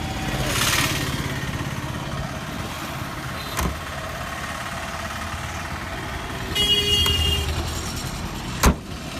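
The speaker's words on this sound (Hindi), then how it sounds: "शानदार साउंड है डोर क्लोजिंग की।" The driver's side door of a Premier Padmini shuts with one solid, close thud near the end, after a lighter click earlier, all over a steady engine-like rumble.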